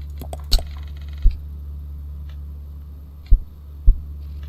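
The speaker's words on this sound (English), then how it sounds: "Why can I hear a heartbeat?" Low, muffled heartbeat thuds in the KinitoPET horror PC game, four soft beats spaced unevenly over a steady droning hum, with no talking.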